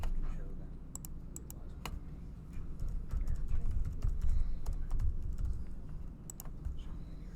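Someone types an address on a computer keyboard, irregular bursts of crisp key clicks at close range over a low background hum, with people talking around it.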